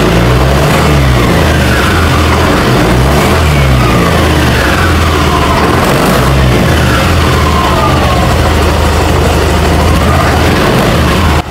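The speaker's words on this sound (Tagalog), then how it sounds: "Diretso yung rev niya, hindi nagpuputol-putol." A 2023 Yamaha NMAX v2 scooter engine revs with traction control switched off, a loud, steady, unbroken drone whose pitch rises and falls in repeated smooth sweeps, close to the microphone with no talking.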